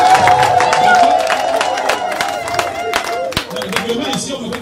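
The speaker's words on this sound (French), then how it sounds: "On applaudit tout le monde." A crowd at a baptism celebration claps, with scattered sharp hand claps and some murmuring over a few seconds, fairly close and moderately loud.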